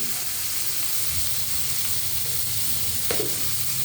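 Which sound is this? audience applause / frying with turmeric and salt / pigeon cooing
frying with turmeric and salt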